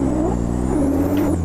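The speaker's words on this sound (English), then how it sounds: "The tyres are very squealy" Race car tyres on cold tyres and cold brakes in Automobilista 2, a steady loud engine drone with a high thin squeal rising and holding over it throughout.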